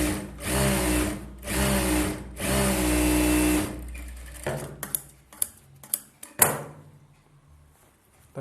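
A sewing machine stitches piping onto a garment lining in three loud, steady bursts of rapid whirring, followed by scattered clicks and handling knocks as the work stops.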